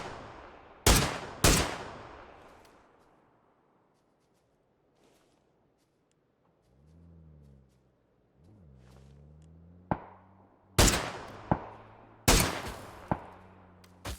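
Gunfire is traded during a PUBG pro scrim match: sharp, loud single shots with ringing echoes come in pairs and clusters, and a motorbike engine revs in the middle of the exchange.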